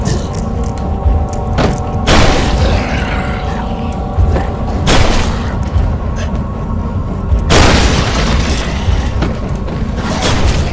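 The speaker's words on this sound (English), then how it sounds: "If we get him to explode the barrel." An explosive barrel bursting in the horror video game Amnesia, loud booming blasts recurring over a dense, rumbling game soundscape.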